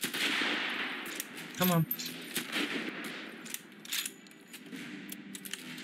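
Rifle fire in a video game, a few sharp sporadic shots with one quick burst and mechanical clicks, mixed with a player's voice speaking briefly over them.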